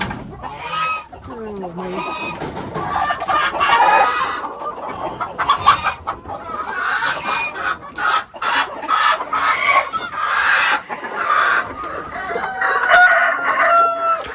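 Broody farmyard hens cluck and fuss continuously at close range, with a rooster crowing at intervals among them and people talking briefly nearby.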